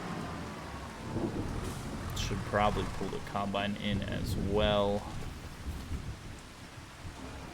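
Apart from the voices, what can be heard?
rain in Farming Simulator 25, a video game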